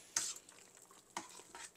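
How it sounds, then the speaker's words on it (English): Potatoes mashed with an old-school hand masher and warm milk in a pot, giving soft squelching presses with a couple of sharper thuds, close and fairly quiet. "this old school masher is the way to go"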